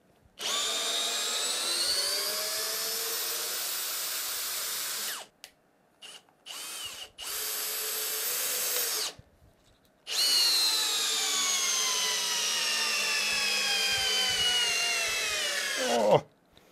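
A Bosch GSB 18V-65 cordless drill drives and backs out a screw in wood, whining loudly in long close bursts with short stop-start pulses between them and rising pitch as the motor strains.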